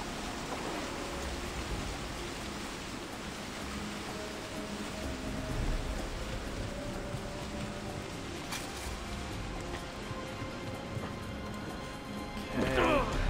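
Rushing water from a waterfall in Assassin's Creed Revelations roars as a dense, continuous wash of noise throughout, swelling briefly near the end.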